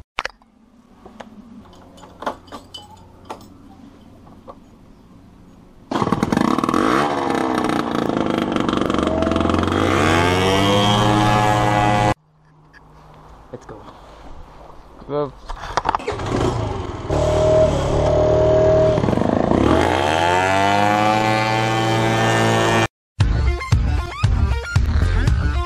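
A Piaggio NRG 50cc moped pulls away on a hill start, its small engine revving up in two loud rising bursts with a pause between, over a quieter idle at first.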